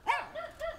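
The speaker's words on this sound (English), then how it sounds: "this dog definitely isn't a fan of me. It's a tiny, tiny dog, but pretty good guard dog" Tiny guard dog barking near Chiang Mai, three quick sharp yappy barks in succession, fairly close but not loud, no talk.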